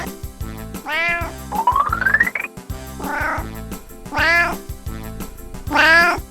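A cat meows several times, drawn-out and close, with a rhythmic musical background playing underneath.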